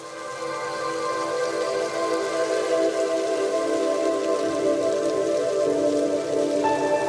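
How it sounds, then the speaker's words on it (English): Steady rain pours down at an animal sanctuary where water buffaloes play, a continuous dense patter on surfaces that stays even and fairly loud throughout with no voices. "Some of the other animals feel very differently about the rain."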